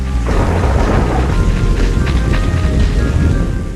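Steady, loud rainfall in the .hack//Infection video game, a dense continuous hiss with rumbling low ambience and no voices.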